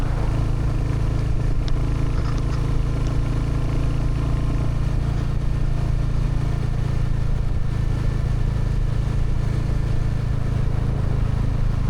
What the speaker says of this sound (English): Hopefully you can hear a little bit more of the engine sound of Ruby in the quiet spaces when I'm not talking